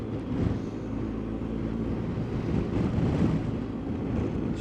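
Wind roars and buffets steadily against a BMW R1250GS motorcycle riding up Scotland's Applecross Pass, a dense low rumble with engine drone beneath, continuous and loud, with no talking.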